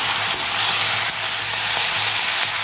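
Onion stalks seasoned with turmeric and salt sizzle loudly and steadily in a hot pan as they are stirred, a dense continuous frying hiss heard alone.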